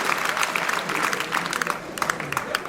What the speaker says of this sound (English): A round of applause for Carmel Lyons and Pat Heffernan